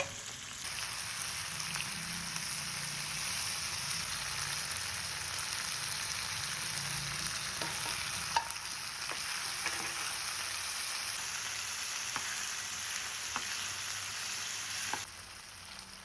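Onion, okra, tomato and green chilli sizzle steadily in a pan while sautéing for sambar, a continuous close frying hiss with occasional faint stirring clicks throughout.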